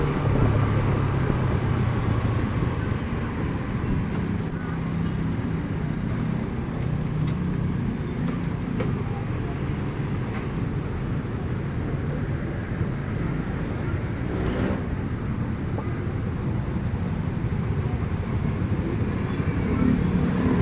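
Road traffic on Chino Road, with a steady rumble of car engines and wind noise heard from inside a moving vehicle, continuous and loud throughout with no talk.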